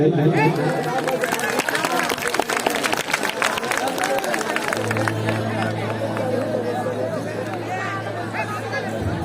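Crowd clapping and cheering at a Sambalpuri orchestra stage show in Ladabahara, Chhattisgarh, a loud sustained wash of applause and crowd noise with a steady tone entering midway.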